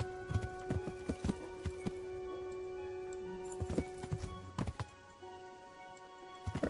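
Horse hooves clip-clop in uneven bursts in the video game Kingdom Come: Deliverance, with a soft whinny at moments, fairly quiet with no talking.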